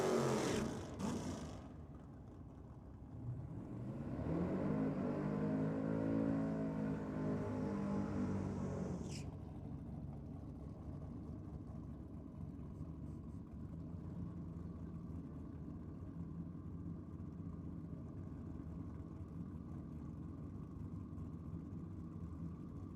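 A boosted drag racing car at a Ford versus Holden night launches and accelerates away in a rising, sweeping engine roar, then fades into distant rumble and quiet ambient noise at the strip.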